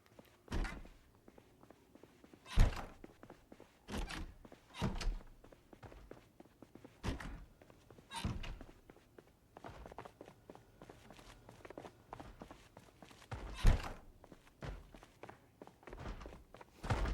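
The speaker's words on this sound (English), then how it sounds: "he's banging his head against the door, as I should have expected" A zombie in Project Zomboid bangs its head against a door, giving irregular dull thuds spread across the stretch, some louder and some fainter, heard alone against a quiet background.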